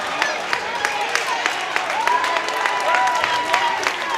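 High school basketball gym crowd reacting to a call, a sustained mass of voices and scattered claps rising and falling, with a commentator talking over it and referee whistles cutting through.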